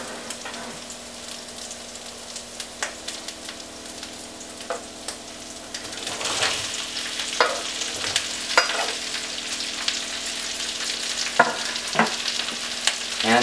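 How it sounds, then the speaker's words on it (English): Peppers, carrots and onions stir-fried with ginger in a hot pan for pork stir-fry, a quiet sizzle that swells louder midway, with repeated sharp spatula scrapes and clacks, close and free of speech. "I'm going to add the peppers, carrots and onions."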